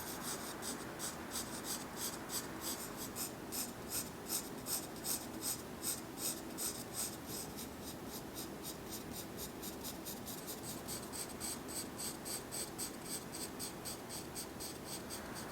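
Graphite pencil shading the dark, shadowed petals of a flower drawing on paper, a steady close scratchy rasp of repeated back-and-forth strokes, rhythmic at first and then continuous, with no voices.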